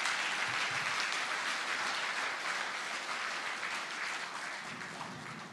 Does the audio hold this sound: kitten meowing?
no